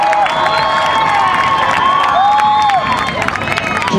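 High school band show crowd at a Band-O-Rama, cheering and whooping loudly with shouts and applause rising and falling for a few seconds.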